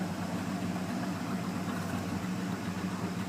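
A carbureted 1979 Ford F-150 idles steadily after a cold start from sitting a week, a low, even rumble close to the engine with no voices.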